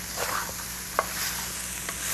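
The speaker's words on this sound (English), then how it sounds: "Now, stir frying this" Tempeh sizzles and crackles as it is stir-fried in a hot pan, with a few soft scraping stirs of a utensil against the surface.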